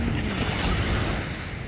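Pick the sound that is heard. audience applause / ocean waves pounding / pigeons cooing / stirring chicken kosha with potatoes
ocean waves pounding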